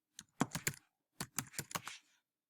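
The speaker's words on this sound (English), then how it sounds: "You have to enter your username. And then you'll need to enter your password." Username and password typed on a computer keyboard in two quick bursts of close, crisp key clicks separated by a short pause.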